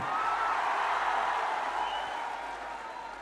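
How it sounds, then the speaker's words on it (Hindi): A large outdoor rally crowd at Gandhi Maidan in Patna applauds in a steady, dense wash of clapping that holds loud and continuous, easing slightly toward the end. "अपने लिए जोरदार ताली बजाइए बैठकर आप"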